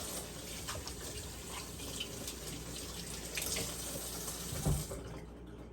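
Kitchen tap running steadily while soapy, dough-covered hands are rinsed under it, a close continuous splash with brief shifts as the hands move, fading out at the end.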